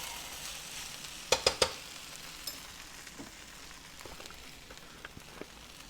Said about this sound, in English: It's frying up real nicely.